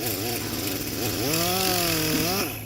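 A power cutting tool slices around the edges of an Oracle Lighting illuminated letter housing, a steady loud whining buzz with a rising and falling pitch that holds for a couple of seconds before easing off.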